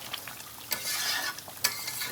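Meat sautéing and being stirred in a pan while it cooks down in its own released juices; a steady, close hiss of sizzling with a couple of sharper scraping strokes, no voices.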